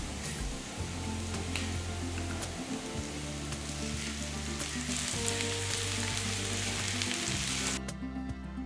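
Prawns frying in butter and garlic over a medium flame, giving a steady, dense sizzle and crackle that stays loud and even throughout, with faint stirring knocks and no talking.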